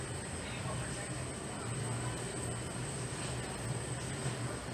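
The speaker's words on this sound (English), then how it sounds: "we're flying on a 1998 Boeing 717-26R as I make my way back to the Daniel K. Inouye International Airport" Steady, loud cabin roar inside a 1998 Boeing 717-26R airliner in flight on an inter-island hop from Maui to Honolulu, a continuous broadband engine and airflow drone with no break.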